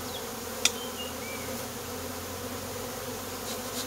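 A steady, close hum of honey bees buzzing around an open hive fills the whole stretch, with one faint click near the start.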